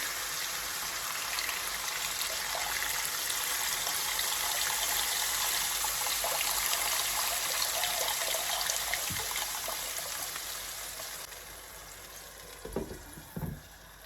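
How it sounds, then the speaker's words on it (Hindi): Water from two cups poured into a cooking pot for peas pulao, a steady trickling splash running for several seconds, then a few short knocks and clatters near the end. "तो इसमें अब हम ये 2 कप जो पानी हमने रखे हुए थे ये डाल देंगे।"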